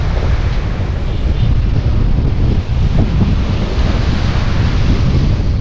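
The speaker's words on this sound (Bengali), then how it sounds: "এখানে সমুদ্রে এত হাওয়া দিচ্ছে আমি কিন্তু টুপিটা রাখতে পারছি না।" A strong sea wind buffets the microphone on a beach between Tajpur and Sankarpur while waves surge and break in a continuous roar. The sound is loud and close, with no break in the noise.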